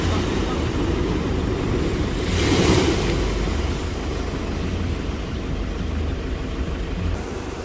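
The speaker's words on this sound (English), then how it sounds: "We are at a beach." Ocean waves roll onto a beach in Tobago in a continuous, loud surf roar mixed with gusty wind buffeting the microphone, swelling briefly near the middle before settling back to a steady rush.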